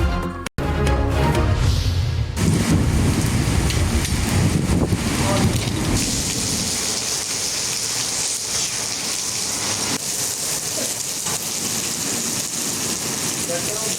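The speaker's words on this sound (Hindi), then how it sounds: "इस्लामाबाद के मुख्तलिफ सेक्टर्स में गरज चमक के साथ मूसलाधार बारिश।" Heavy rain pours steadily in Islamabad with wind noise, a loud, dense hiss that continues throughout after a brief cut near the start; no distinct thunder stands out.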